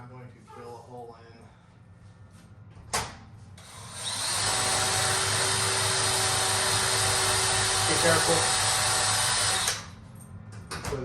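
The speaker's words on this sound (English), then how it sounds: "This one I'm going to drill a hole in." A power drill bores a hole in a glass-backed workpiece with a steady loud whine for about six seconds, after a sharp knock and a short spoken warning before it starts.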